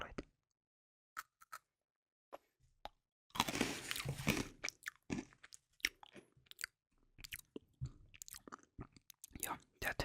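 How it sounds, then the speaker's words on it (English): Salty crunch chocolate bitten into and chewed up close, with a burst of crisp crunching followed by a steady series of sharp snapping chews and wet mouth sounds, with quiet gaps between them. "So just for that, the eatness, we have some salty crunch chocolate."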